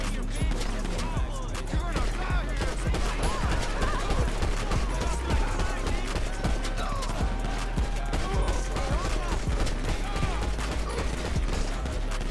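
Rapid bursts of gunfire in a GTA roleplay shootout, dense and continuous over a busy mix of game sound and background voices.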